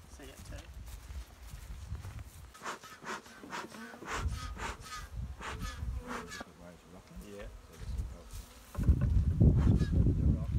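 Honey bees buzz continuously as they are moved into a top bar hive outdoors, a close droning swarm with occasional handling knocks and footsteps, growing louder near the end while people talk nearby.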